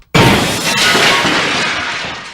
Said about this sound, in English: You've just smashed up my brand new plane!